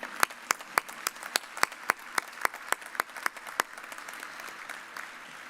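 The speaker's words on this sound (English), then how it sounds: "Please join me in saluting our faculty with a round of applause." Thin applause for faculty at a fall 2020 university commencement ceremony: a small number of distinct, fairly faint claps in a quick, regular run that stops after a few seconds, leaving quiet room tone.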